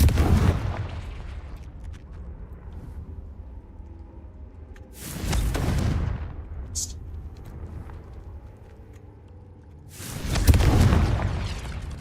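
In the Hogwarts Legacy video game, a Confringo fire spell goes off as two deep, heavy booming explosions a few seconds apart, each swelling and fading over low cave ambience.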